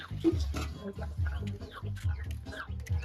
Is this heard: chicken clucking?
yes